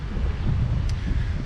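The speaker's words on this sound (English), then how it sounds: "it's windy and it's been very breezy today" Gusty wind at Palmanova, Mallorca, buffeting the microphone, a low steady rumble with a breathy hiss over it, no talking.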